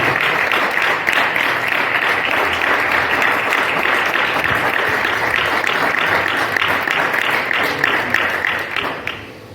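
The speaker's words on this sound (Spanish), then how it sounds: "Fuerte ese aplauso al Señor" A church congregation at a Spanish-language service breaks into loud, sustained applause, dense and continuous for several seconds before tapering at the end.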